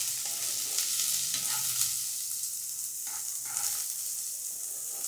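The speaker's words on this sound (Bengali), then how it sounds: "পেঁয়াজটা খানিকটা ভাজা হয়ে গেছে" Chopped large onion fries in oil in a pan, a steady bright sizzle with a few soft scraping stirs and spoon knocks, close by and with no talking.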